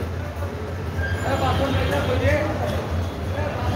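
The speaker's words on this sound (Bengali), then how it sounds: "চট্টগ্রামে আছি, চট্টগ্রামের রেলওয়ে স্টেশন।" Steady low rumble and crowd murmur fill the Chittagong railway station, with rail traffic noise and faint squealing under nearby talking.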